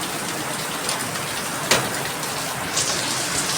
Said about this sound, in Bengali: এই মুষলধারায় বৃষ্টি নেমেছে, দেখো মেঘও ডাকছে, বিদ্যুৎও চমকাচ্ছে, বিশাল বৃষ্টি।